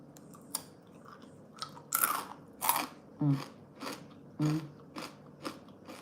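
Crunching bites into Jagariko potato snack sticks, a series of sharp, close crunches spaced about a second apart, with softer chewing in between and no talking.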